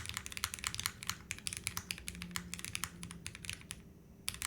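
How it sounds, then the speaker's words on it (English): Rapid keystrokes on a custom-built mechanical keyboard, a close, continuous patter of crisp clacks in uneven bursts with brief pauses, heard alone without voices. "Ooh, I suck at typing with this."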